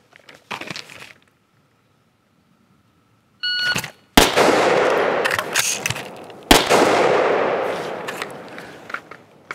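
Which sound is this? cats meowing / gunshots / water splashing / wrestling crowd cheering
gunshots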